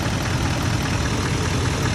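An L5P Duramax diesel engine in a 2017-or-newer truck runs steadily after fuel injector replacement, giving a dense, continuous idling drone with a broad hiss and a low rumble, close and constant.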